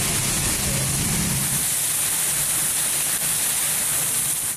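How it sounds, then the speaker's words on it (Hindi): A dense, steady roar of torrential rain with strong wind fills the air, loud and continuous, with a low rumble underneath early on. "जेला में तेज हवाओं के साथ मूसलाधार बारिश ने जल थल एक कर दिया"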